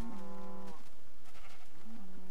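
Video game cattle on a ranch in a valley, bleating in two close, loud calls separated by a short pause, heard alone without talk.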